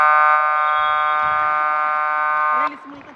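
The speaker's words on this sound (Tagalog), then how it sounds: "Last 5 seconds, wait for the buzzer." A loud basketball game buzzer sounds a long, steady electronic tone to end the period in a third-place amateur match, then cuts off sharply, with an announcer's voice and crowd noise under it.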